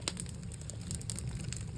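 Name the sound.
mushrooms sauteing in a pan with bouillon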